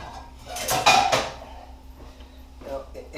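A small metal pan for making egg rolls is picked up and handled, giving a brief cluster of clanks and scrapes around the first second. Quieter rattles follow later, and a voice speaks throughout.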